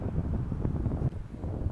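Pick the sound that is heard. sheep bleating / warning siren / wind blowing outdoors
wind blowing outdoors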